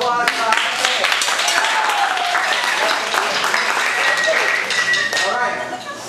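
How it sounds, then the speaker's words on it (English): Audience applause at a jazz camp, a dense round of clapping from a room of listeners that stays loud and even for several seconds before tapering slightly at the close. "Round of applause for Anna."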